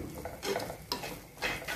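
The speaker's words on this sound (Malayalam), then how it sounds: "ഇളക്കി ഇളക്കി നന്നായിട്ട് പച്ചമണമെല്ലാം മാറി വരുന്നിടം വരെ" Beef ghee roast stirred in a pan, a spoon scraping and clinking against the pan in several broad strokes over a soft sizzle, close and moderately loud with no voices.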